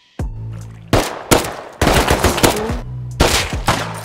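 Gunfire in the game Rust while shooting a scientist to a headshot: loud, close bursts of rapid automatic shots in several sharp volleys, with brief silent gaps between them.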